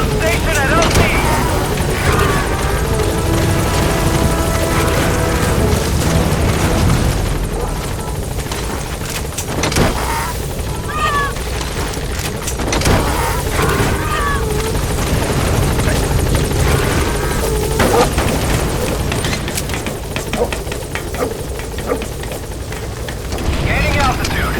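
A helicopter arriving at a landing zone in Metal Gear Solid V, a loud continuous rotor thrum and engine roar with occasional thumps and bursts, and a voice talking over it.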